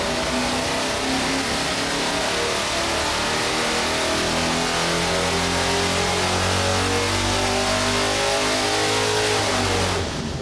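A rebuilt Chevy 350 small-block V8 for a '69 Camaro roars on a dyno, holding a loud, steady high-rpm run for about ten seconds before cutting off at the end.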